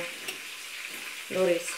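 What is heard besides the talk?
chicken meatballs sizzling as they fry in oil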